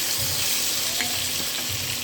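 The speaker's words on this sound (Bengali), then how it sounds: "আমি মাছটা ভালো করে ভেজে নিব" Prawns fry in a pan with ginger and garlic, giving a steady close sizzle with faint stirring scrapes and no talk.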